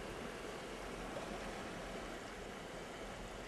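Sea waves wash against the shore in a steady, faint, even rush of water with no distinct breaks or voices.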